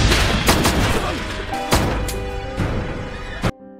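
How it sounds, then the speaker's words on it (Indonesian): Several sharp pistol gunshot cracks over a dense, noisy action scene in the film Exam (2009), loud and close, ending abruptly in near silence. "White melihat Black yang terkena peluru pistol"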